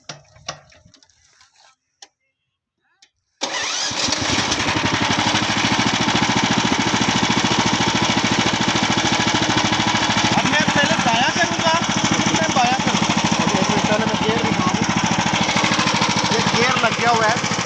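A two-wheel wheat and rice reaper cutting machine's engine runs steadily and loudly with a dense, rapid chugging, starting abruptly after a few quiet seconds of faint handling noise and continuing unbroken.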